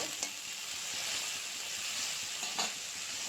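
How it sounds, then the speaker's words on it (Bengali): Dal with banana flower being stirred in a pan over a low flame, giving a steady soft sizzle with a few brief scraping stirs, close and fairly quiet, with no voices. "এখন ভালোভাবে নাড়াচাড়া করে ডালটা একটু লো ফ্লেমে রেখে কিছুক্ষণ অপেক্ষা করতে হবে"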